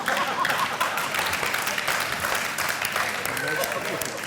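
A live studio audience at a Karan Johar show bursts into sustained applause, a dense steady wash of many hands clapping at even loudness throughout.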